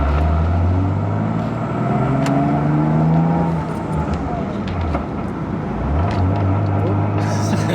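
A Toyota Soarer with a swapped-in T56 manual gearbox pulls away, its engine droning steadily and rising in pitch as it drives off, loud and close inside the car.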